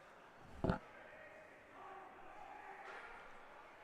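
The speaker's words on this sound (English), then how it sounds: "We've got a vocal crowd here today." A vocal crowd at a high school boys' hockey game in a rink, with one sharp shout bursting out briefly, then a faint, distant murmur of voices.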